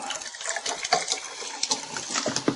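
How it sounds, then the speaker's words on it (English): Carbonated mineral water pouring into a glass, with a continuous splashing stream and crisp fizzing, popping bubbles that crackle irregularly, close and fairly quiet. "Just going to get myself a little drink of mineral water because I'm a little bit thirsty. A nice bubbling."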